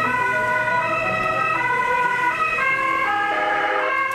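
An ambulance siren wails continuously, loud and close, its two-tone pitch stepping up and down in a steady cycle with no pause.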